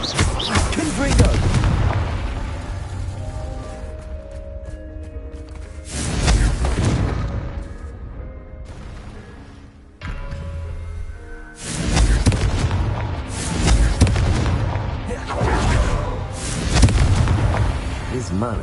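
Repeated booming blasts from the Confringo spell in Hogwarts Legacy roll out in loud waves amid game sound, with a voice speaking between the explosions.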